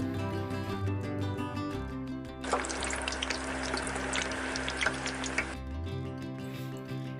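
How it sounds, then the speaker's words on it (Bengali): Fish pieces dropped into hot white oil in a wok, a sudden loud crackling sizzle bursting out over a low hum, lasting about three seconds before dying back to quiet. "এবার মাছগুলোকে একে একে তেলে ছেড়ে দিচ্ছি উল্টে পাল্টে লাল করে ভেজে নেব"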